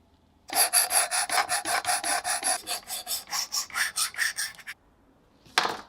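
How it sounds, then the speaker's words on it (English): A Victorinox Swiss Army knife blade being sharpened gives a rapid series of close, rasping strokes, about twenty quick back-and-forth scrapes in a steady rhythm, then a pause and one final scrape. "Before finishing, the blade is sharpened."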